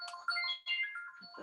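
A phone ringtone plays during a talk: a bright, melodic electronic tone with rising and falling notes, fairly loud and mostly alone for about a second and a half.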